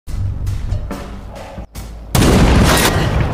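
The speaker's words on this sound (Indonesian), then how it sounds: "Mendengar suara tembakan, Brandon langsung berlari menuju sumber suar" Loud bursts of gunfire with short gaps, ending in a sustained, heavy barrage of shots close by, in a sniper film.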